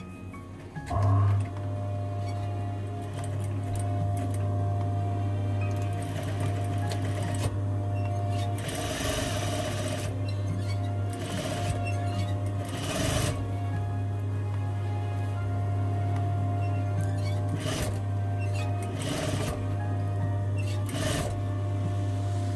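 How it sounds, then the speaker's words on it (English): A sewing machine stitches dress lining fabric, a close steady mechanical whir with a strong low hum, running continuously with brief pauses and slight speed changes. "Okay, so I'm sewing the lining part."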